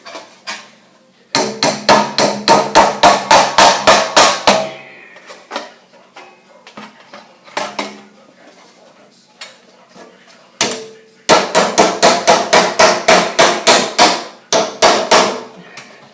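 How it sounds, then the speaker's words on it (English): Rapid bursts of loud metallic hammer blows beat a sheet metal edge over to form a Pittsburgh seam, two long runs of quick strikes with a few scattered hits between them. "So we're going to hammer that edge over."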